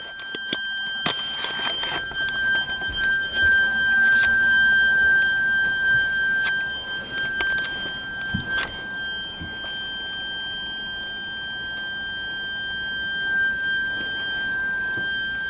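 An M50-SPD security siren holds a steady single-pitch alert tone, heard at a moderate distance and fairly faint, with scattered clicks and handling knocks over it.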